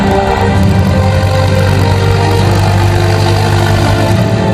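A Mahindra tractor engine runs at a steady, loud, close idle-like drone with a constant low rumble throughout, with no talking.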